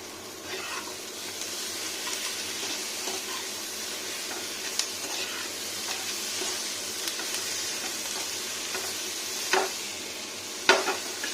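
Tomatoes go into a pan of frying broccoli with butter, fennel and whole spices, giving a steady soft sizzle with occasional clinks and scraping stirs, moderately close.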